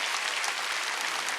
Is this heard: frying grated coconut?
no